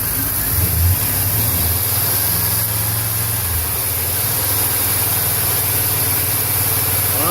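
A 1998 GMC Sierra Z71 4x4 with a 5.7 Vortec V8 runs steadily, held at a raised rev of around 2500 rpm; a loud, continuous engine drone fills the whole stretch with no talk.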